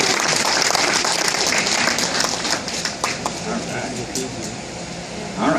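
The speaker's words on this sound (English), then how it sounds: "The crowd gives Dane a nice round of applause for a job well done" A live crowd applauds after a demonstration of a piece breaking off with an easy tap, the steady clapping close and full, with scattered voices mixed in and fading slightly toward the end.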